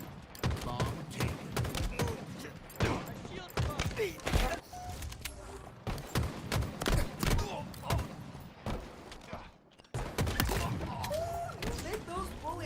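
Gunfire in a video game comes as rapid bursts of sharp shots with short pauses between them, loud and close, while a voice talks over the shooting.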